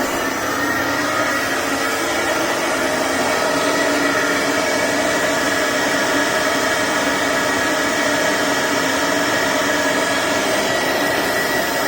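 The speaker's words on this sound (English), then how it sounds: "I'm going to run the vacuum just to try to suck any of the residual stuff off of there" A steady, loud whooshing drone of a vacuum cleaner runs without pause from start to finish, with no voices over it, sucking residue off a VHS tape after mold cleaning.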